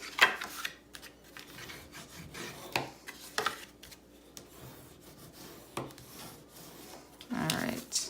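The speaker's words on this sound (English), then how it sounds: "So now we'll go through and we will burnish them down" Folded paper pieces of a craft mini album are burnished down with a tool, giving soft scraping rubs in short strokes with a louder, longer rub near the end, close and fairly quiet.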